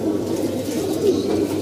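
A large flock of pigeons kept free-flying from their loft coos continuously, many overlapping throaty calls forming a close, steady murmur with no talking.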